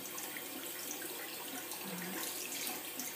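Cold tap water runs steadily while a makeup brush is rinsed under it, a continuous hissing splash at close range with no pauses or talking.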